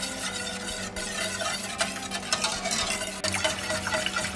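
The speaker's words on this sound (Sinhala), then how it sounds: "ඊට පස්සේ මේ විදිහට හිමීට මේක කවලම් කරගන්න." A cream caramel pudding mixture is stirred gently by hand just after being taken off the stove, making a continuous close wet swishing with small scrapes and no voices.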